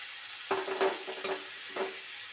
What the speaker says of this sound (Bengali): এবার দিয়ে দেবো ম্যারিনেট করা চিংড়ি মাছ